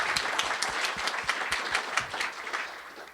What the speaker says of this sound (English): So a big round of applause for Earl, please.